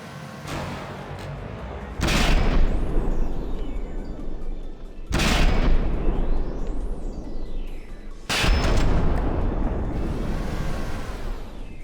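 The carousel cannon in the Wreckfest racing game fires three loud, sharp blasts spaced about three seconds apart, each followed by a long rumbling tail over continuous background noise.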